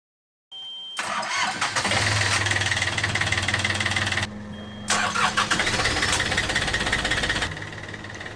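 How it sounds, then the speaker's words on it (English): Boat engines cranking and catching, first one then another, settling into a steady rumbling warm-up idle with a brief drop between starts, loud and close, no talk. "let's start the engines and get them warming up"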